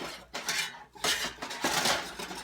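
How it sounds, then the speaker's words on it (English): A metal spoon scrapes repeatedly across the bottom of a pan of chicken drippings, fat and flour in several rough, gritty strokes, close and fairly loud. "This is where it can get a little bit noisy, but I want to dig up all of those drippings."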